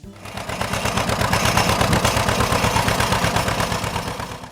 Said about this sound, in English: the familiar two-cylinder pop-pop sound that is associated with American memories of the field